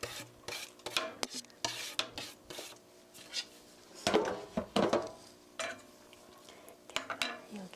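Sliced green onion (daepa) stir-frying in a pan, heard as scattered scraping and clattering of a utensil against the pan in short, irregular bursts, fairly quiet and close, with no talking.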